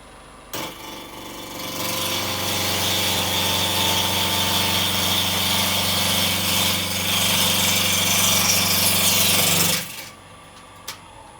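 A wood lathe spins steadily as a gouge cuts about half an inch into a bowl blank, a close, continuous whirring hiss lasting about eight seconds before the motor winds down and stops.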